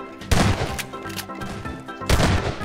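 Rapid bursts of gunfire in the Garry's Mod Prop Hunt game, two loud volleys of shots separated by a quieter stretch of scattered sounds.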